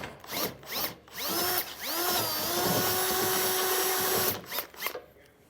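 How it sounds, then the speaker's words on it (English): A power drill with a small bit bores through the metal of an adjustable-width RV trailer hitch receiver: short revving bursts, then a long, loud, steady whine that stops abruptly. "we can get a smaller drill bit and drill through"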